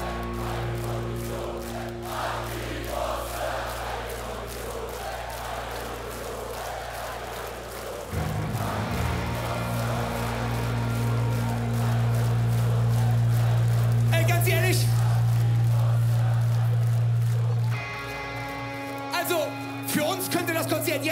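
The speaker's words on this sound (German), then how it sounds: "wenn das ganze Publikum bitte einmal singen könnte" A festival crowd at the Hurricane Festival 2023 sings along during a rock show, the mass of voices swelling loud over the band with sustained notes before fading back into the music.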